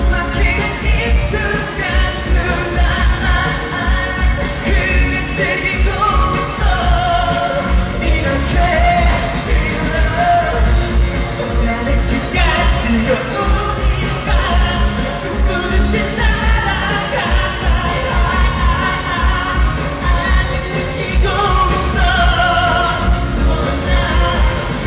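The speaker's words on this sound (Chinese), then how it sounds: "听听台下的尖叫声就知道" Fans scream loudly and without pause at a K-pop Cube family concert in Shanghai, a dense roar of yells and whoops blended with the music in the hall.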